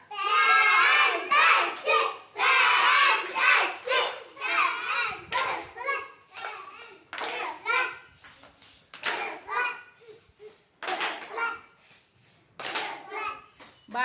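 Young schoolchildren in a classroom clap together in loud bursts of rhythmic patterned claps, mixed with children's voices and shouting throughout.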